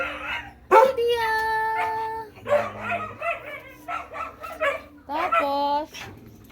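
Female pitbull barking and yipping close by, a few sharp barks with whiny, tonal yelps in between, mixed with a person talking over the dog.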